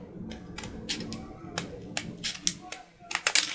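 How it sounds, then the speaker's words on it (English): Scissors cutting through thick paper with a run of quick snipping and crunching strokes, close and uneven, picking up toward the end, with faint voice sounds in the background. "let me just cut it with the scissors all at once"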